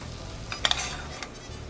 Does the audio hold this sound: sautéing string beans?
yes